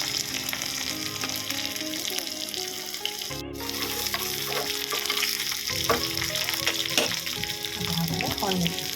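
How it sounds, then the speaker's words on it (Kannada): Mustard seeds, asafoetida and garlic sizzle in hot oil for a tempering, a steady close crackle with sharp pops and stirring, joined by running tap water, with light music and a brief break in the sound partway through. "ಒಗ್ಗರಣೆಗೆ ಸಾಸಿವೆ, ಇಂಗು, ಇದಕ್ಕೆ ಗಸಿರೋ ಬೆಳ್ಳುಳ್ಳಿ"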